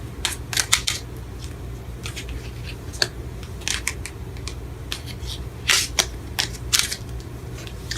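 Tarot cards being shuffled by hand, close and fairly quiet, with rapid irregular crisp flicks and riffling snaps in short bursts over a faint steady background hum.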